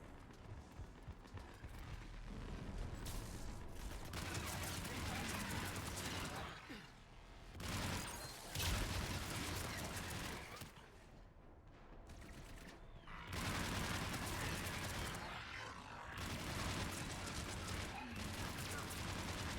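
Heavy artillery and gunfire in Mass Effect 3, a dense, loud barrage of blasts and booms that rolls on in long waves, with brief lulls between bursts and speech mixed into the noise.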